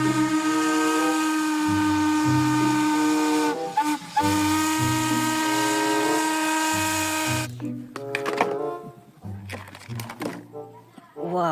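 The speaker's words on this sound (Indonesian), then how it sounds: "ini lokomotif kereta api" A toy train locomotive gives off a loud, sustained whistle-like electronic tone that steps between pitches, breaks briefly, then turns into choppier bursts near the end.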